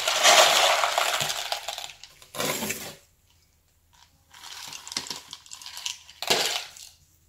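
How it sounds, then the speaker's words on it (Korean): Yellow clay stones poured onto a freshly repotted succulent in an orchid pot clatter and crunch in several bursts, loud and close, with short quiet gaps between pours. "황토 돌을 이 위에다가 복토를 해줍니다."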